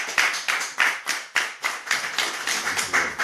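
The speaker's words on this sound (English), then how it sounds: "can everyone just give the Emmett Foundation a round of applause for it?" Audience applause, a sparse run of about a dozen distinct, fairly loud claps in an uneven rhythm, close by and without voices.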